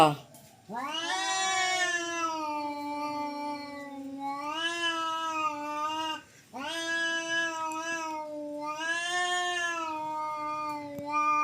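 A cat meows loudly and close by in three long, drawn-out, wailing calls with short pauses between them.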